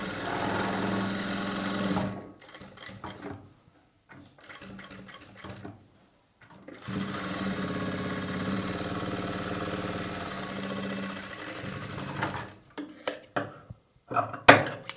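Sewing machine stitching a plain blouse, close and steady in two long runs of rapid mechanical whirring, broken by short stop-start bursts and pauses while the fabric is adjusted.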